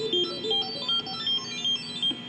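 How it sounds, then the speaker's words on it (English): A synthetic duophonic sound from an Atari 800 computer, two tones at once, bright beeping pitches pulsing in short repeated bursts, clean and alone. "followed by a duophonic computer sound"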